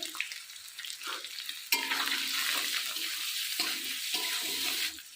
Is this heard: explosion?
no